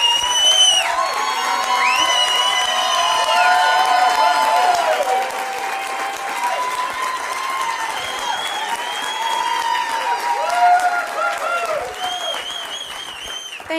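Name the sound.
audience applause and cheering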